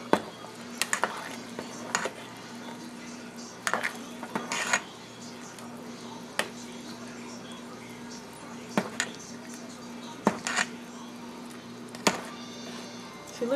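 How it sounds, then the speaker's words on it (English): A spoon knocks against a pot while beef stew ingredients are stirred together, producing sharp scattered clinks and scrapes over a steady low hum, with a person talking in between. "And mix it together. Make sure there's no clumps."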